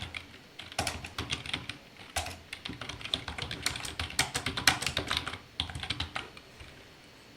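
A project name is typed on a computer keyboard in Android Studio: a quiet, rapid, irregular clatter of keystrokes in short bursts, with no speech.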